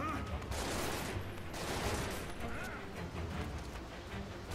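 Gunfire during a boss fight against Reno in the video game Final Fantasy 7 Remake, a dense, fairly quiet crackle of shots mixed with game effects and background sound throughout.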